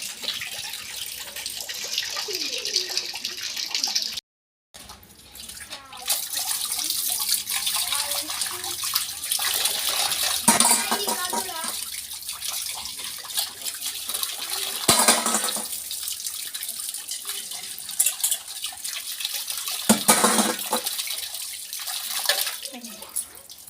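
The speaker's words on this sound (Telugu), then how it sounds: "అంతలోపు నేను సామాన్లు కడుగుతున్నాను." Dishes being washed under a running tap at home, with steady water flow and splashing throughout, occasional clinks and short breaks in the stream, fairly close.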